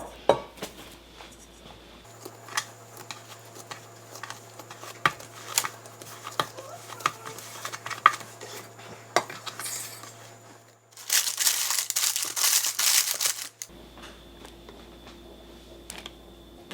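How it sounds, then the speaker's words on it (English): Artisan bread dough lifted out of a bowl and kneaded by hand: close clatter of the bowl and soft irregular thumps, a louder crinkling rustle in the middle, over a low steady hum with no talking. "So now I'm going to be taking it out of the bowl and kneading it and then putting it in another"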